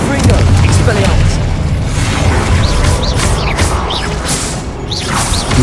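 Spell effects from Hogwarts Legacy, Incendio fire blasts and Confringo explosions, boom and crash repeatedly in dense, loud game combat, with whooshing bursts layered over a constant rumbling din.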